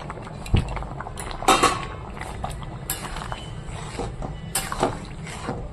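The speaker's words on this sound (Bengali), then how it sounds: "এবার আমি এখানে ভেজে রাখা ডিমগুলো দিয়ে দেবো" Fried egg pieces go into a pot of bubbling vegetable curry, with clanks of a spoon and pot, soft plops and a low simmer underneath, fairly close.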